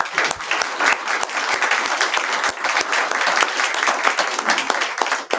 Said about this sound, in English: How about a round of applause for our candidate?